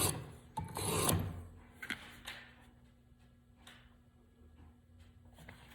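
A knife blade rasps across a sharpening stone on a TSPROF guided sharpener, a burst of close scraping strokes early on, then fainter intermittent rubbing passes.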